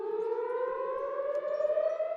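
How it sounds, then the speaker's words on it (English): An air raid siren sounds across Tel Aviv, a steady, slowly rising wail that carries loudly and alone, with no voices over it. "air raid sirens sounding across the city"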